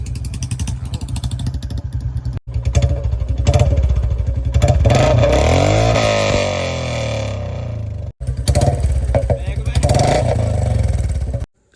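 A 2024 Bullet motorcycle with a modified silencer, its engine thumping loudly and close, revving up in a rising sweep and settling back, with brief cuts between takes.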